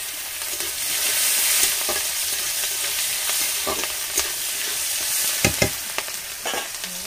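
Chopped onion with bay leaf and five-spice sizzles in a pan for a crab curry. The frying hiss runs continuously while a spoon scrapes and clatters against the pan in irregular strokes, close up.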